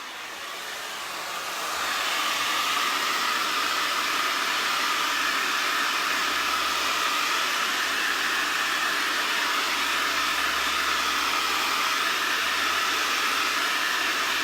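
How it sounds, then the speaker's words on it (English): A handheld blow dryer drying fresh chalk art switches up to full power after a couple of seconds and then blows as a loud, steady whooshing roar for the rest of the stretch. "Let me just hit it really quick with my blow dryer."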